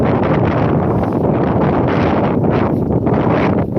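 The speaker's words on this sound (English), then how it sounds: "Martha, it is really windy" Loud, gusty wind buffets the microphone in a continuous rushing roar, with no voices, on the coast at Withernsea in wet weather.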